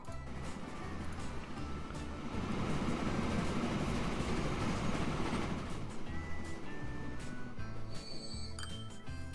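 A Transport Fever game train rumbles steadily along its line, a continuous rolling roar with faint metallic clinks and clacks, loud and even throughout.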